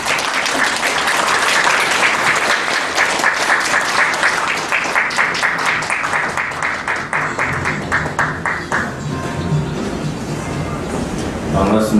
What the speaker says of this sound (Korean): 모두 큰 박수로 맞이해 주시기 바랍니다.